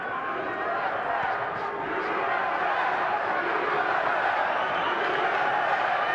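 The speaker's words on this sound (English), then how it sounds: "The crowd is chanting USA" A large crowd chants USA at a Floyd vs Castillo boxing match, a loud, continuous roar filling the arena, with commentators talking over it.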